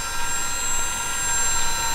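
A small turbojet engine mounted on a bicycle starts up, giving a loud, steady, high-pitched whine with a constant hiss and no break for the whole moment.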